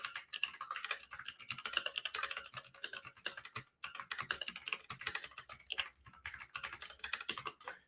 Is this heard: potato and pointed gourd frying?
no